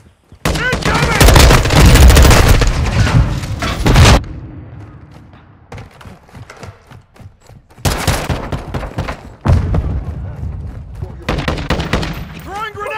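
Bursts of automatic gunfire and heavy explosions fill a multiplayer Call of Duty Modern Warfare 2 match, loud and close in two dense stretches separated by quieter rattling shots, with in-game voice callouts shouting over the din.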